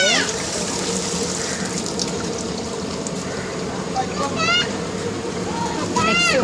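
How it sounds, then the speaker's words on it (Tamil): Brinjals are washed under running tap water, a steady splashing and trickling close by, with a person talking over it throughout. "கத்திரிக்காவை எவ்வளோ க்ளீன் பண்ணுறாங்க பாருங்கள், நல்லா ஃப்ரெஷ்ஷாக கழுவிட்டு"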